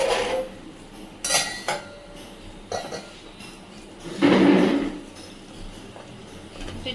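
Sour curry of fish-roe fritters poured from a pan in a home kitchen, with a short, heavy splashing pour amid scattered metallic clinks of cookware and utensils nearby.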